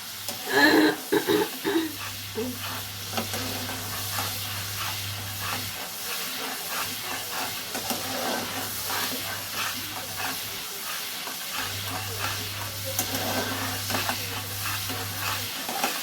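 Egg masala with coriander frying in a pan while it is stirred. A steady close sizzle and hiss runs throughout, with scraping stirs and a low hum underneath, and faint voice sounds now and then.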